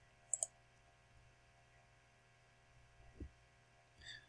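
A computer mouse gives a couple of quick, sharp clicks up close, followed by a few fainter clicks over a steady low electrical hum in a quiet room.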